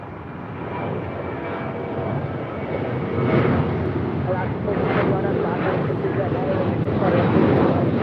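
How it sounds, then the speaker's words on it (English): A United Airlines Boeing 737-900ER departing LAX for Denver roars steadily with broadband jet noise, swelling slightly as it climbs, with wind buffeting the microphone and people talking nearby. "This is United Airlines 529 taking off to Denver, Colorado"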